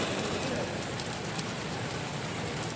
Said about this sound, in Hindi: बारिश तो तेज़ हो रही है